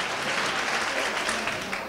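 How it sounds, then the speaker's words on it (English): A church congregation claps hands together in dense, continuous applause, a full crowd sound filling the room at close range with no pauses. "clap your hands"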